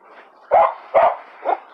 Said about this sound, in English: Is your dog gonna rip me apart?